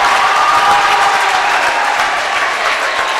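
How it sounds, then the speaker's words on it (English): Basketball crowd cheering and roaring after a made basket on senior night, a dense, sustained wall of voices and applause filling the arena at steady loudness. "What a reaction from the crowd here"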